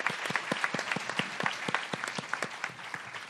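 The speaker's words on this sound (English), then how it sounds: "Can we have a round of applause for Laura, please?" A comedy audience at the Edinburgh Fringe applauds, with sharp, distinct claps in a fairly quick, steady rhythm from a small crowd, close and clear.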